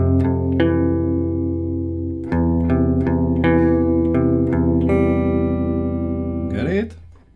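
Electric guitar chords ring out, a series of plucked chords struck one after another and left to sustain, ending with a brief scrape of the strings.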